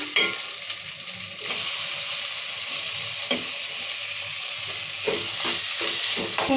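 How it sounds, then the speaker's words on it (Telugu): Tomatoes and curry leaves frying in oil for a village-style chicken curry, a steady sizzle broken by repeated scraping and stirring knocks, with no voices. "ఇప్పుడు కరివేపాకు వేసాం కదా నూనెలో మంచిగా ఉడుతుంది ఇప్పుడు టమాటా వేసుకున్నాం"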